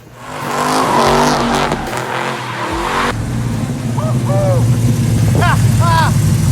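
A hot rod engine rumbles and revs loudly, with tires squealing in short chirps as it pulls away, steady engine noise throughout.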